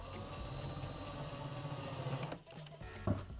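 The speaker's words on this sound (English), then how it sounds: "So I'm just screwing this in here temporarily" Steady mechanical whir of a screw being driven into a wooden guide piece for a modern barstool build, continuous and close for about two seconds, then stopping and briefly restarting.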